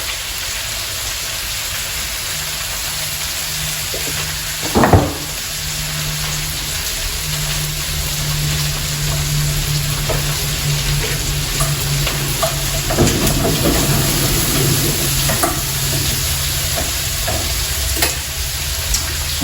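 Cauliflower frying in a pan for a one-pan keto meal, a loud continuous sizzle close by, with a stir or clatter near the start and intermittent stirring scrapes later, no talk.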